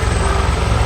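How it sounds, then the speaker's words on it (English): At night over a quiet campsite at Moonta Bay, South Australia, a helicopter passes overhead with a loud, close, continuous rotor thudding and engine rumble in a brief burst. "Come on, helicopter, some people are trying to sleep."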